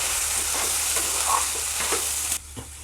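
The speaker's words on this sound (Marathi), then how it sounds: "हे सगळे मसाले आपण आता व्यवस्थित मिक्स करून घेऊयात" Spices for Maharashtrian masale bhat stirred in a pan, a steady broadband sizzle with soft scraping strokes of the spoon, close and continuous, easing off near the end.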